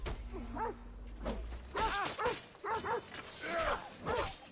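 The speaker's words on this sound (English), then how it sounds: "Really annoying dog." A dog in Assassin's Creed Odyssey, set in Athens, barks in a quick run of sharp yips and bow-wows, several clustered barks close by with a low hum underneath.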